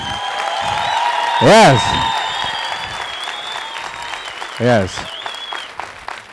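An audience claps steadily at a motivational talk, the applause running throughout as a voice calls out twice over it, with a couple of loud whoops standing above the clapping.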